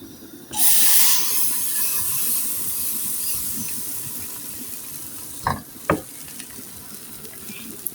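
Chitol pitha made from rice frying in a pan, a bright hiss of sizzling bursting in near the start and settling into a steady crackle, with two short clatters later on.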